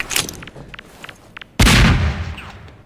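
A grenade goes off in a shooting video game: a few light clicks and thuds, then one sudden loud blast with a long rumbling tail, up close.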